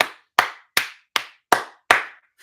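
Six crisp hand claps at a steady, moderate pace, close and loud, each with a short decaying tail and clear silence between them.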